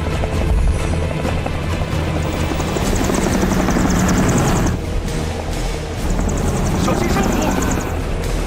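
A helicopter's rotor and engine roar loudly and continuously, buffeted in strong airflow over a mudslide area, with steady broadband noise filling the scene.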